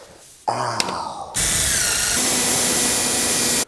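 A power drill whirs steadily as it drives screws into a single-wall steel stove pipe on a wood stove chimney, with a short burst of noise followed by a loud, continuous drilling run close to the microphone.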